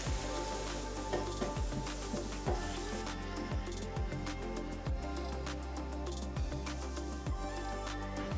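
Mushrooms with rosemary and garlic sizzle in butter in a pan, a steady hiss of frying under a persistent rhythmic musical beat.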